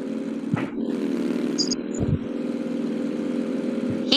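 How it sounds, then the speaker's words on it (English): Motorcycle riding in an animation: a continuous mid-pitched engine hum, fairly close and steady, with a few short clicks and bumps over it. "She rides a motorcycle."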